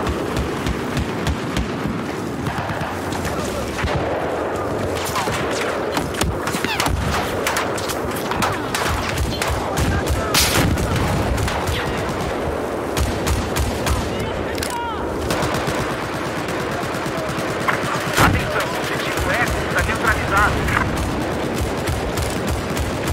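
Battlefield 4 video game gunfire: rapid bursts of automatic weapon fire and sharp single shots, loud and dense, repeating irregularly across the whole stretch with explosive impacts mixed in.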